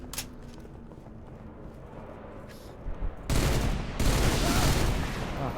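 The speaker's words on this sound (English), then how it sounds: "I'm under fire." Gunfire in the shooter game Halo: Reach, with faint sporadic shots that give way to a loud, dense burst of sustained automatic fire in the last seconds.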